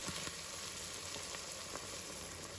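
Boiling water added to stir-fried pickled mustard greens in a hot wok makes a steady, even hiss and sizzle, faint and continuous with no breaks or voices.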